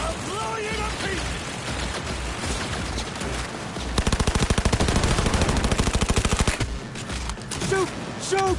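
Gunfire in the Cyberpunk video game: scattered shots and clanks give way to a sustained rapid machine-gun burst in the middle, with faint game sounds around and no clear talk.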